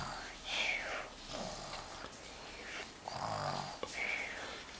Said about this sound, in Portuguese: Olha como ele ronca alto.